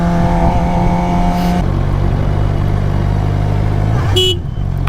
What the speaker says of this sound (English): That's my horn.